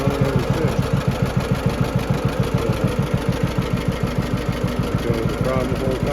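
An old John Deere B tractor engine idles steadily on a 12-volt coil, its regular low two-cylinder putt-putt beat loud and close throughout, with a voice briefly heard near the end.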